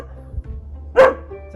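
A dog gives a single short, sharp bark nearby in a courtyard being renovated, preceded by faint shuffling and a quiet background.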